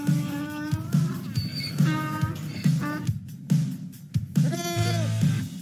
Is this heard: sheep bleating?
yes